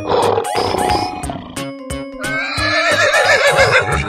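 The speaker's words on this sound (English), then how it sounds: "Horse." Cartoon horse neighing amid animal sound effects, a loud whinny with quavering, wavering pitch following a rough roar-like burst and scattered clip-clop knocks.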